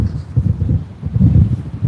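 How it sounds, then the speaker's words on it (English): Strong gusting wind at Sydney Airport buffets the microphone in loud, low rumbling surges that swell and ease in quick succession, close and continuous with no voices. "This morning it was a bit windy and it just got worse off"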